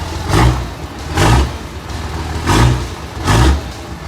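A six-speed Cummins diesel pickup truck engine revs hard four times in a steady rhythm, each loud burst rising and falling back to a rumbling idle between them, heard close with no talking.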